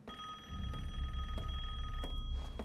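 Telephone ringing in the video game Resident Evil Village, an old bell ring with steady repeated trills over a low, rumbling game ambience, no talk.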